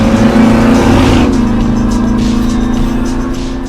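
A 1926 all-metal hot rod with an 850-horsepower 350 cubic inch small block Chevy crate motor revs loudly and close, its deep harmonic roar rising then settling into a steady high idle drone.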